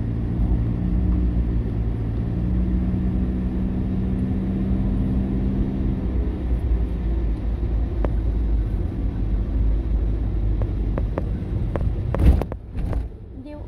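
Vehicles on a road in Thailand rumble past steadily for several seconds before the traffic noise thins out, with a few sharp knocks and bumps near the end.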